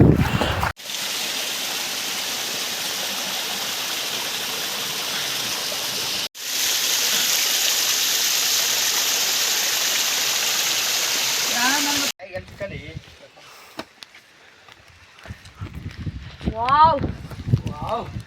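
Water flowing through a stone channel built between rocks at Kavaledurga makes a loud, steady rushing sound that cuts out briefly twice. It then gives way to quieter outdoor ambience as a voice talks near the end.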